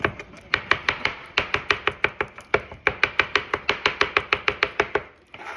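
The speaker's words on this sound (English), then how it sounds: "I'm gonna chop it the way I want to chop it." Knife chopping food on a cutting board in a home kitchen, a steady run of sharp, close, loud strikes in quick rhythm, with brief pauses between bursts and no talking.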